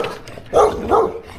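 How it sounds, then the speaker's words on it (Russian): Three dogs somewhere along a riverside with kayaks bark in two loud bursts close by, with some quieter yips and whimpers between them and a little background noise. "Прикольные собаки здесь."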